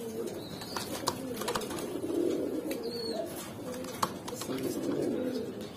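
Domestic fancy pigeons cooing softly in a loft, several low, rolling coos repeating close by at a quiet level, with faint background noise and a couple of brief clicks.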